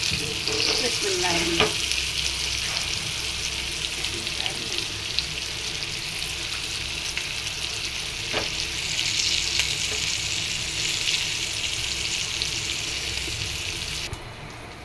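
Onions and chillies frying in oil in a pan give a steady, close hiss for the whole stretch, with a few sharp clicks and scrapes of a utensil now and then.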